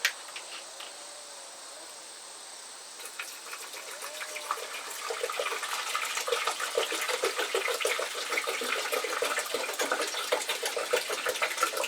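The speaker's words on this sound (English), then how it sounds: "Fill it up with some water." Water running into the reservoir of a new Mr. Coffee 12-cup coffee maker, a steady close trickle that grows fuller and louder as it fills.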